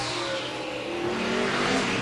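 A NASCAR Sprint Cup stock car roars steadily around Dover's track during qualifying, its loud engine note rising slightly as it runs.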